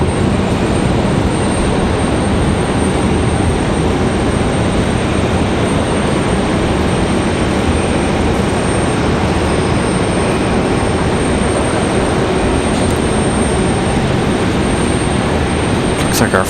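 A United airliner, flight 1417 from Denver, arriving at Raleigh-Durham International Airport, makes a steady, loud broadband engine roar that holds unchanged throughout, with no clear rise or fade.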